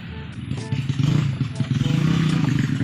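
A motorcycle's starter cranks in a close, rough, rhythmic churn that rises and keeps going, while the engine fails to catch and run.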